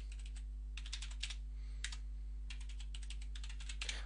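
Bursts of quick, close keystrokes on a computer keyboard as a password is typed in several short runs, with a steady low electrical hum underneath and no talking.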